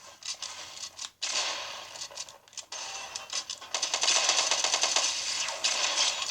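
Rapid automatic fire from a combat assault rifle in the Fortnite video game, with bursts of sharp crackling shots that grow denser and louder toward the end and play alone without talk.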